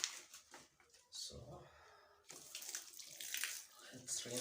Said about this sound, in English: let's rinse it with clean water and see how it looks like now